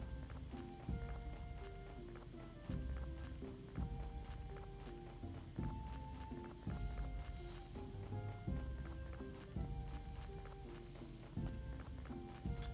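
Donkey hooves walking in the Graveyard Keeper video game, a steady clopping rhythm of game footsteps repeating over a looping melodic music track with a pulsing bass line.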